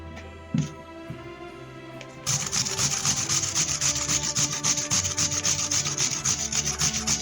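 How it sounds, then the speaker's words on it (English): Potatoes being grated for hash browns, a steady rhythmic rasping scrape starting after a couple of seconds of quiet room sound and continuing loud and close to the end. "we've got a grater full of potatoes"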